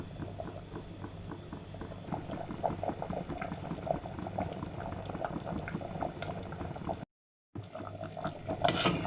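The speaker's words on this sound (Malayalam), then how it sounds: "മാമ്പഴ പുളിശ്ശേരി നന്നായിട്ട് തിളച്ചിട്ടുണ്ട്" Mango pulissery, a Kerala-style ripe mango curry, bubbles steadily in a pot with a continuous soft gurgling and popping, close and fairly quiet, with a brief dropout near the end.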